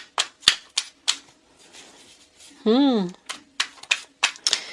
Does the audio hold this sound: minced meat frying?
no